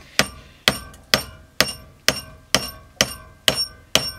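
Eight evenly spaced, sharp metallic hammer blows drive a wooden dowel through a steel plate, each strike ringing briefly before the next, close and loud with no talk.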